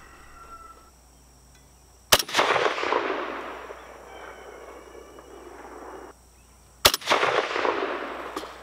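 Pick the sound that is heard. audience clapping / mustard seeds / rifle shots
rifle shots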